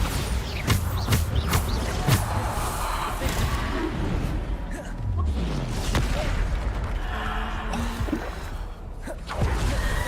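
Bombarda explosion spells cast in Hogwarts Legacy: several sharp blasts and booms at irregular intervals, mixed with whooshing spell effects and combat clatter.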